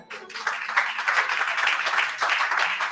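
A church congregation claps together during a Pentecostal-style sermon, a dense, steady patter of many hands filling the room for about three seconds after a brief pause at the start.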